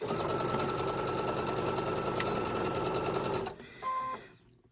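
A sewing machine stitches quilting blocks in a fast, steady mechanical rattle for a few seconds, then stops, followed by a brief short burst and faint handling noise.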